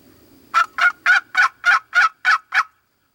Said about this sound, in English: Last gobble of the day,